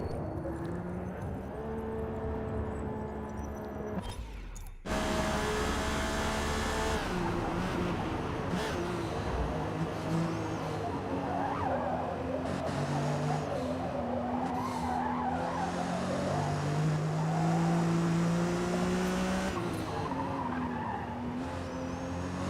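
A race car in Forza Motorsport brakes hard with a long, loud tire squeal and skid over its running engine, after a brief break in the sound partway through.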